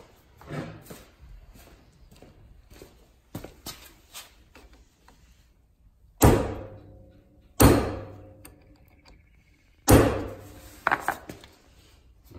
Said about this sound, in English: get my hammer and knock that back down